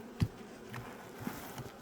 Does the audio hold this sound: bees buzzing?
yes